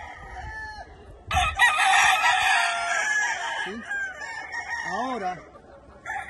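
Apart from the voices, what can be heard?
roosters crowing and clucking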